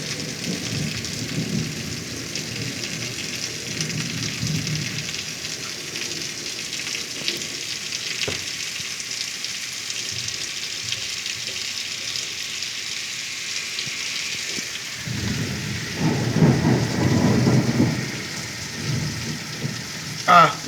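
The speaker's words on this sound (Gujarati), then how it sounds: "પુષ્કળ વરસાદ ખૂબ પવન સાથે વરસી રહ્યો છે. અને આપ વીજળીના કડાકા ભડાકા પણ સાંભળી જ રહ્યા હશો." Heavy rain pours steadily with strong gusty wind during a storm in Wankaner taluka, Morbi district, while deep rumbling thunder rolls in twice, near the start and again more loudly toward the end.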